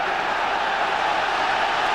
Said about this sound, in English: Again, this big crowd try to lift the team.